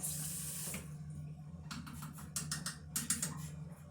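Tap water runs into a container at a bathroom sink, a steady splashing stream that starts and stops in short bursts, close and moderately loud with no talking.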